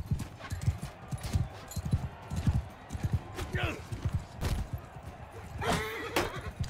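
Horse hooves clip-clop in an irregular rhythm up close in the video game Mount & Blade 2: Bannerlord, with a person talking over the steps.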